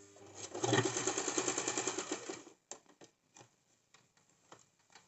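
Sewing machine lock-stitching a pant seam with an elastic waistband, a close, steady rapid whir lasting about two and a half seconds, then stopping and leaving scattered clicks and handling taps.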